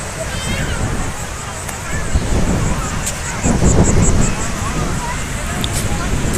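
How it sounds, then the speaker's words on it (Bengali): Strong seaside wind buffets the microphone in a loud, continuous roar that surges and gusts, with a person speaking over it. "এত জোরে জোরে হাওয়া আসছে"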